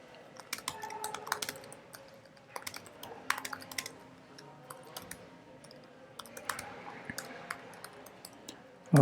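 Fingers type on a computer keyboard in quick irregular bursts of light clicks and taps, fairly close and moderately quiet, with brief pauses between runs of keystrokes.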